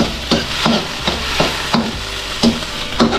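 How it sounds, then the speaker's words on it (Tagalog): Plain tuna sautéed in a hot pan: a steady sizzle broken by about eight rhythmic scraping stirs of a utensil against the pan, close and clear, with no talking. "Ayan, gisa-gisa lang natin tuna."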